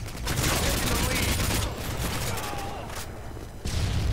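Rapid gunfire in the Modern Warfare 2 video game, loud dense bursts of automatic shots filling most of the clip with a brief lull near the end before firing resumes, with a voice faintly under it.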